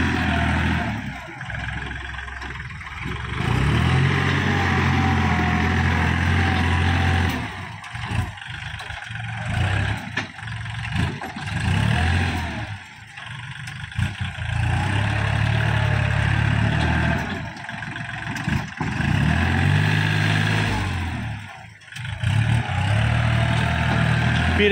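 A Kubota 40 hp tractor's engine runs steadily and fairly close, with a low rumble holding throughout and small shifts in level. Someone talks over it for most of the stretch.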